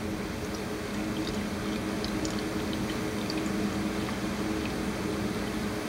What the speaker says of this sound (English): I'm gonna pour some water in there.